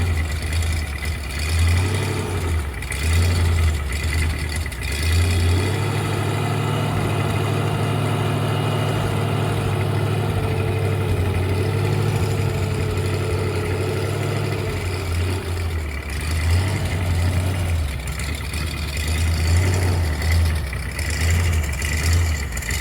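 A 1975 Bricklin SV-1 engine idles roughly after a cold first start of the year, its low uneven rumble running steadily throughout with slight surges and dips, close up and without voices.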